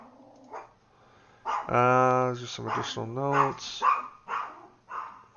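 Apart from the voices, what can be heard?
dog barking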